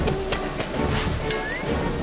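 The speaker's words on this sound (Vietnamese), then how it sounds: "Trời mưa mất rồi." Steady rain pours down with a dense hiss, with faint rumbles and a few brief tonal sounds mixed in.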